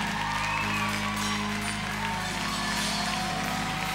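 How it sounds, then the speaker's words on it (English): Church congregation clapping hands during gospel worship, a steady wash of applause with faint crowd noise and no speech. "Come on, clap your hands for her."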